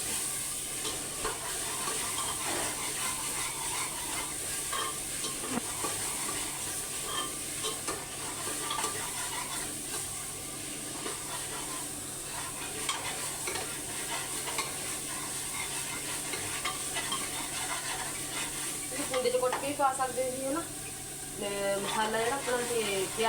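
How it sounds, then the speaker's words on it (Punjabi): Spice masala fries and crackles softly in a pan while a spoon stirs and scrapes through it, a steady close sizzle with faint clinks toward the end, and a person talks over it. "ਜਦੋਂ ਆਪਣਾ ਮਸਾਲਾ ਭੁੱਜ ਗਿਆ ਨਾ ਆਪਾਂ ਮਸਾਲੇ ਜਿਹੜੇ ਸਾਰੇ ਪਾ ਦੇਣੇ"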